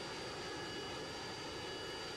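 A steady, loud helicopter engine whine and rotor roar holds unbroken throughout, with no voices, from a helicopter in the Roblox game Vehicle Simulator.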